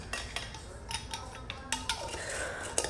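A mason jar of salad dressing with red onion being shaken, giving a quick run of close, irregular glassy clinks and liquid sloshing, fairly soft and alone.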